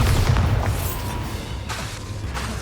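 A Bombarda blast from a Harry Potter-style spell game lands as a single heavy, booming explosion with a rumbling low tail, loud and close, with no speech over it.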